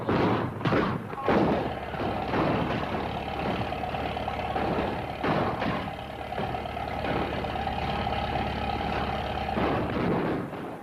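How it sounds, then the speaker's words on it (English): Cannon fire in a rehearsal scene from a classic TV comedy: several loud booming thumps early and midway, followed by a sustained rumbling din. "What's all that racket? Sounds like gunfire."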